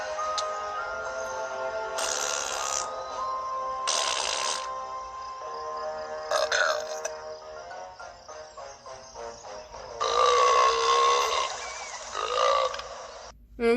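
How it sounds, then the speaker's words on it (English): Ty and a Furby trade burps in a burping contest, Furby Island: several loud, drawn-out croaking belches in turns, with short gaps between them and a longer, stronger burp near the end. "So then Ty and this Furby have a burping contest."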